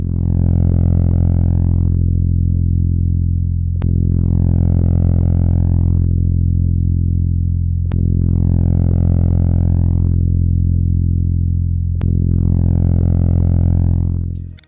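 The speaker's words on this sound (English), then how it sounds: "Quite different are the noises made by one of the stars with a complex name of numbers and letters." Radio noises recorded from a distant star, rendered as sound: a loud, steady low electronic drone with a sharp click about every four seconds, each followed by a swelling, brighter rising sweep that then fades back.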